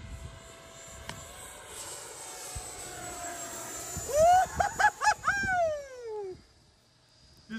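FMS Futura 64mm EDF RC jet flying: a steady ducted-fan whine holds in the background, then rises into a louder series of pulsing, sweeping passes near the end before fading.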